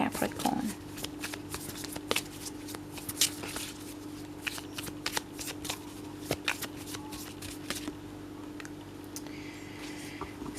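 Tarot cards being shuffled and drawn by hand, a run of crisp riffling flicks and taps in irregular bursts, close up over a faint steady hum.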